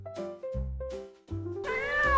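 A yellow and white stray kitten meows several times in a row, short plaintive cries followed by a longer, rising whiny meow, close and clear.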